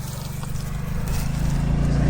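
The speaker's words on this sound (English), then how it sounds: "Motorcycle." A motorcycle passes nearby, its low rumbling engine swelling steadily louder over two seconds as it approaches.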